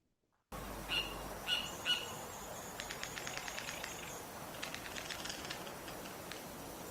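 A very fast bird trill made when the bird is upset sounds in rapid bursts of sharp high chirps and squawks, fairly faint over a quiet hiss after a moment of silence.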